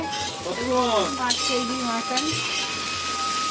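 Food stirred in a hot pan sizzles steadily in a village home kitchen, with the scrape and clink of a utensil against the pot and a voice talking quietly underneath.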